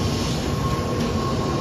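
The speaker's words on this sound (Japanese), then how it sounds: "東海のね N700 系アドバンス化改造です。" A JR Central Shinkansen N700A bullet train is heard up close at a station, a loud, steady rolling roar with a faint high whine running over it.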